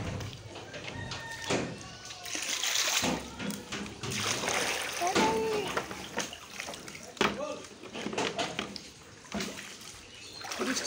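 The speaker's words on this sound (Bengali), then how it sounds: "বৃষ্টির পানি অনেক বালতি দিচ্ছে" Rainwater being bailed out with buckets in front of a flooded house after heavy rain, with irregular splashes and sloshing water throughout, fairly close, and voices talking over much of it.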